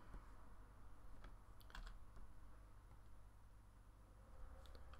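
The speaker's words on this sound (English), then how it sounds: "So I'm just going to type in Q for Cura." Typing on a computer keyboard, very quiet, with a few scattered key clicks over steady background hiss and no voices.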